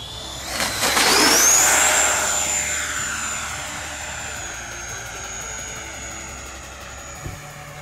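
A twin 70mm XFly B-1B Lancer RC jet roars past overhead, a loud rushing whine swelling early then settling into a long, fading high-pitched tone as it flies away.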